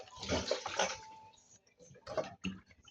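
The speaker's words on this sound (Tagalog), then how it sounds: "Buhos natin ng tubig." Water poured over coffee cups being washed, heard as uneven splashes and sloshing in short bursts with gaps between, fairly quiet and close.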